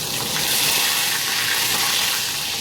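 Green chili peppers sizzle and fry hard in a hot pan on a high flame, a loud, steady crackling hiss close by with no talking.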